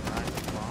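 Rapid bursts of automatic gunfire in a shooter video game, loud and close, a quick rattle of shots lasting under a second.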